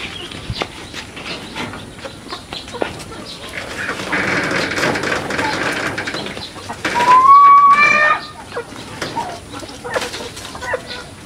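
Goliath chickens cluck in a poultry house on a farm, scattered close clucks and soft calls over a rustling background, with a louder burst of squawking midway.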